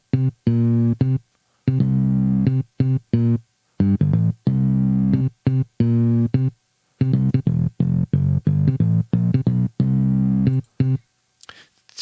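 Bass guitar riff, processed with compression and overdrive and played from a MIDI track, chugs in short punchy notes with brief gaps, loud and close, with no voices.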